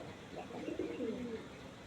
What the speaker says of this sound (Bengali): ওই যে লাস্টে একটা পায়রা ভাত খাচ্ছে।